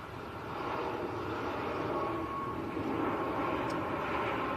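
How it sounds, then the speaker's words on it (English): An Air Baltic Airbus A220, flying for Swiss and arriving from Zurich, roars steadily at Manchester Airport with a broad, even engine rumble and whine at moderate distance, no talk. "Look at this beautiful aircraft, Air Baltic A220 operating for Swiss, in from Zurich."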